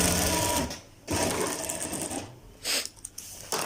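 An electric sewing machine stitches a kurta seam in loud, steady bursts of motor whir, stopping briefly twice before starting again, with no talk.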